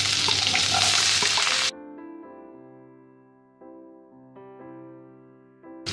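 Onions, green chillies and curry leaves hit hot oil for a dosa potato masala with a loud, dense sizzle that cuts off abruptly after a couple of seconds, followed by soft sustained musical tones.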